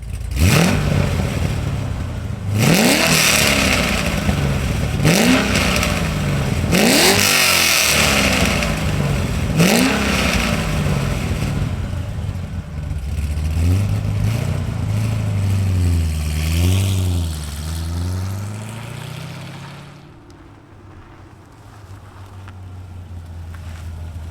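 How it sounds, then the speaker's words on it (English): A modified 2006 C6 Corvette Z06 V8 roars through repeated loud throttle blips and revs, each swelling and falling back, then settles into a deep, steady idle rumble that drops quieter near the end. "Let's fire it up and hear this V8 rumble."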